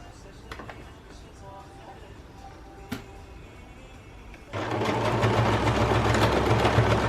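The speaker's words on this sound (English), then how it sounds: "We're going to sew from here to this point to the end." Sewing machine stitching a folded fabric strap, starting after a few quiet seconds with faint handling noises, then a steady, close, loud mechanical whir that runs to the end.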